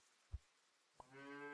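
A cow in the video game Super Auto Pets gives a short, bright, harmonic moo after a low soft thump, clear and close with nothing else around it.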